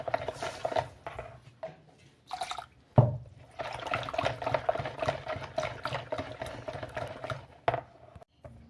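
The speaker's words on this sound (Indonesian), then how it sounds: "Ini kita aduk sampai gula pasirnya larut ya." Sugar stirred into a liquid until it dissolves while making steamed apem, with soft wet swirling and sloshing in irregular bursts, brief pauses and a single sharp knock against the container.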